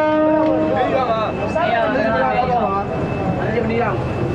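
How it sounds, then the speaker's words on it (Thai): The Yangon Circular Train in Myanmar runs with a continuous rattling rumble from its carriages, heard from on board, while someone talks over it for the whole stretch. "ดูบรรยากาศบนขบวนรถไฟที่วิ่งรอบเมืองย่างกุ้งนะครับ"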